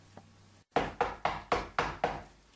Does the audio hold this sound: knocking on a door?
yes